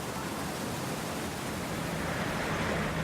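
Water from opened gate paddles rushes into a London canal lock, a steady, dense roar of churning flow that stays constant and loud throughout.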